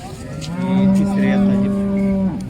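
A dairy cow at a cattle market lets out one long, loud, close moo lasting about two seconds, rising then holding steady before breaking off, with faint background crowd noise.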